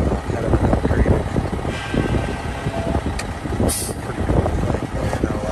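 A 2004 Mack Granite CV713 dump truck engine runs at idle with a steady, loud diesel rumble close by and a brief hiss partway through.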